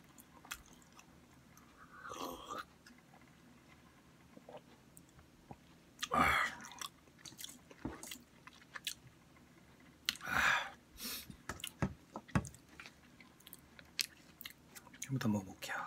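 Crunchy cheese-flavored snack chewed close up in bursts of crisp bites and munching, with a voice talking quietly between mouthfuls.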